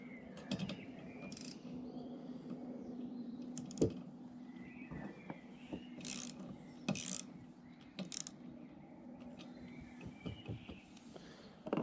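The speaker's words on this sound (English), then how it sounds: "Then you just snug the 13mm nut down" Ratcheting clicks and small metallic taps come from snugging down a 13mm nut on the front windshield wiper arm of a Volvo S60, S80, V70 or XC70, intermittent and fairly faint, alone.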